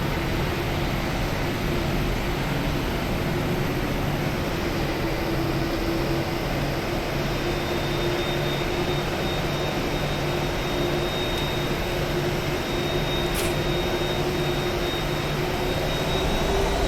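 Continuous whine and roar of PMDG 737-900 jet engines while taxiing in a flight simulator, a steady unbroken drone with a faint high tone, loud and alone for the whole stretch.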